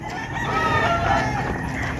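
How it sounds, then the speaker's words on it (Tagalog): Boston Roundhead gamefowl clucking and calling close by in a continuous, busy stretch of fowl sounds over steady farmyard background noise. "napakasungit na manok."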